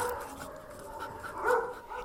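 Several abandoned street dogs at a shelter in Istanbul bark, yip and whimper in a busy overlapping chorus at moderate distance, with no voices over them.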